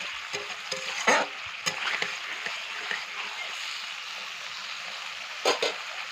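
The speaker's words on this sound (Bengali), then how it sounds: "এবার একটু সামান্য জল দিয়ে দেবো, মশলাটা কষবে।" Spice paste fries in a pan after a splash of water from boiled papaya, giving a steady soft sizzle broken by a few louder stirring scrapes, fairly quiet and with no voices.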